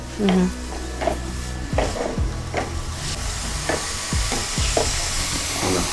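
Vegetables fry in a pan over low heat with steady sizzling, while a utensil scrapes and stirs at irregular intervals. A few louder clanks break in, and a brief voice is heard near the start.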